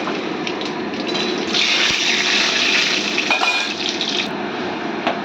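Mustard seeds and dried red chilies hit hot oil in a pan, giving a dense, loud continuous sizzle and crackle that swells in the middle and stays steady throughout, close up with no voices.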